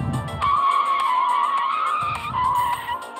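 Tires skid and squeal as a car drifts in a retro racing video game, a sustained screech holding over engine rumble that dips briefly and returns, loud and close with no voices.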